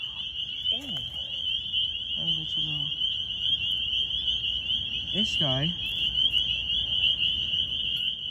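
A steady high chorus of frogs calls at night in New Jersey in March, with occasional nearer rising calls and a person speaking briefly over the continuous trilling.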